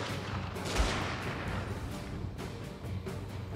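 Artillery fires in a samurai-era siege battle in the strategy game Total War: Fall of the Samurai, a dense, continuous roar of distant cannon and gunfire with a few sharper booms breaking through.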